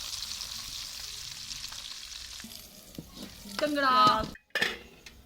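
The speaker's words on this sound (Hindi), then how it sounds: "ये देखिए मेरा लहसुन ब्राउन हो गया।" Garlic frying and browning in a pan for dal at home, a soft, steady sizzle with stirring, then a few clinks of a utensil against the pan near the end; quiet and close, no speech.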